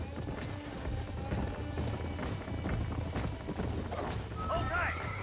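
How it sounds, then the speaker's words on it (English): Horse hooves clip-clop in Red Dead Redemption, a quick galloping rhythm of thuds mixed with game action noise and a brief whinny near the end. "There's the horses!"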